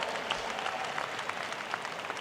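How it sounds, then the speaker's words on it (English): Applause for the president at the John Jay College commencement, a continuous patter of many hands clapping, heard fairly faint and distant across a large crowd. "Why don't we give your president a big round of applause here?"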